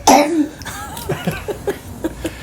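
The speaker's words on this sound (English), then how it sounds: "Cough into the mic" A child coughs into a microphone, one sharp loud burst at the start followed by a few softer, scattered throaty sounds close up.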